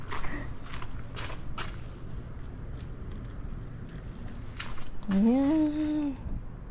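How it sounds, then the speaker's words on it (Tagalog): Wet, noisy garden shoes squelching and scuffing on a rainy garden path, a few close steps over steady background noise, with a brief voice near the end. "Ang ingay ng aking garden shoes."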